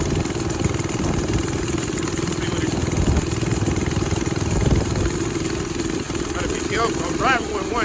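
A 1999 motorcycle engine runs steadily while being ridden at modest speed down a bumpy street, a continuous mid-pitched drone with slight swells, close and loud, with someone talking over it.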